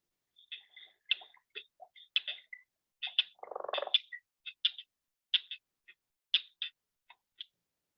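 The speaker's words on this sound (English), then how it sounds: "This is what cricket frogs sound like when they're calling." Northern cricket frog (Acris crepitans) calls as a series of sharp, dry clicks like small stones knocked together, spaced irregularly and fairly close, with a brief rougher burst in the middle and nothing else around.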